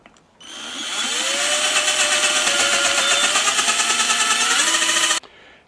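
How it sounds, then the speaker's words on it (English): A small-diameter valve seat cutter opens up the port just below the valve seat on a Norton race engine cylinder head, its motor spinning up into a loud, steady whine with a rough grinding buzz before stopping abruptly. "I've got a smaller diameter cutter in there now, and what I'm going to do is open up the port just below the valve seat"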